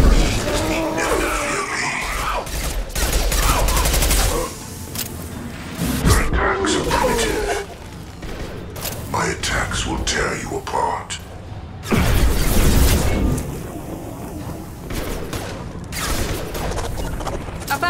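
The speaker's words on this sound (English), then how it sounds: "Firing a high impact shot!" High-impact gunshot from a Sentinel's weapon in the video game Mass Effect 2 on Insanity difficulty, booming amid dense, continuous combat noise, with sharp bursts at about 6 and 12 seconds and voices talking throughout.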